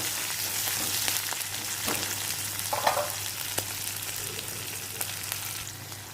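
Chopped onions fry in a pan for an arbi sambar, giving a steady close sizzle with occasional stirring clicks and scrapes throughout.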